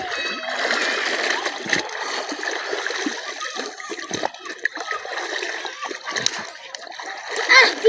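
Water splashes and churns in a river as someone dives in, a loud, close, continuous turbulent spray with people talking amid the splashing.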